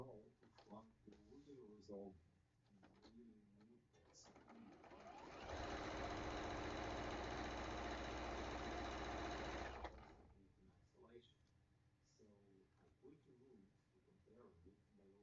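Sewing machine stitching a seam on a quilt block of fabric triangles, a loud steady whir running for about four seconds alone, with talk before and after.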